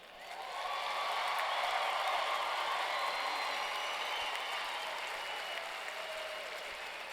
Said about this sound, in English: I think that deserves a little more applause.